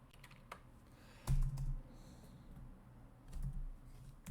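Keystrokes on a computer keyboard while coding C#, light clicks early, then two louder thumping bursts of keys, against quiet room noise.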